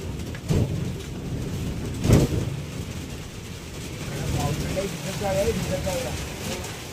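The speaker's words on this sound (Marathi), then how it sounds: "आणि आता जोरात आलेला आहे मित्रांनो पाऊस" Heavy May pre-monsoon rain pours in a dense, constant roar with low rumbles and wind buffeting, while a voice talks over it toward the end.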